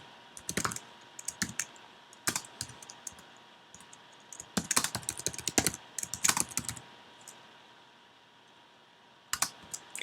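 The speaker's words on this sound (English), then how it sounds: "So sorry for the slow typing." Someone types slowly on a computer keyboard, producing irregular clusters of sharp key clicks separated by short quiet pauses.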